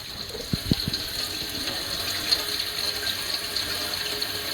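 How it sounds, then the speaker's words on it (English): Water from a tap runs steadily into a repaired sink during a leak test, a continuous close rushing flow after a couple of knocks at the start, with no talking. "now we can probably use the sink without it leaking everywhere"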